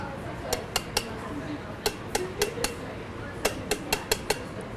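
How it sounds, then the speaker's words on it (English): A knife butt taps repeatedly against a giant emu egg's shell, producing a string of sharp, hard clicks in irregular bursts, close by, with a voice talking underneath. "So I'm going to show you another way to crack it."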